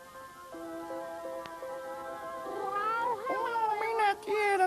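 Cat meows several times in quick succession, bending, wavering cries that follow a stretch of steady held tones in the background.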